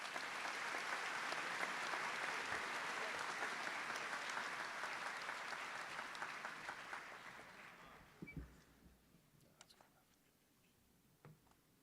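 A large crowd applauds at the Bordentown Regional High School class of 2025 graduation ceremony. The clapping is broad and sustained, then fades out, leaving a quiet hall with a few faint ticks and rustles.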